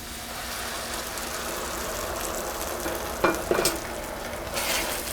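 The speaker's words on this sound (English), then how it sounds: "I'm going to add my onion and garlic back to this pan" Onion and garlic go into a hot pan of tender mushrooms, giving a steady broadband sizzle with a few sharp stirring scrapes and clatters partway through, close and fairly loud, no voices.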